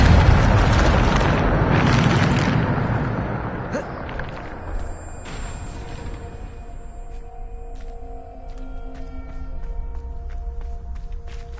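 A Depulso spell in Hogwarts Legacy on PS5 fires as a loud, rumbling blast that lingers for a couple of seconds, then decays into quieter magical chimes, tones and scattered clicks.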